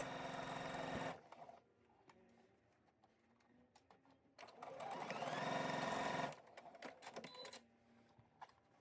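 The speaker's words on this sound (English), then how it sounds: "stitch all the way around at 3/8 inch or 1 centimeter seam allowance" A sewing machine stitches around dress pockets in two bursts of rapid whirring, about one second and then two seconds long, with quiet handling clicks and rustles between.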